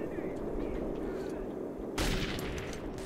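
A sudden heavy blast in the video game Metro 2033 hits about two seconds in, a broadband roar that swells over an already dense, rumbling battle ambience with gunfire-like crackle underneath.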